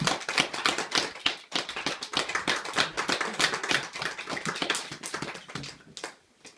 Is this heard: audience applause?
yes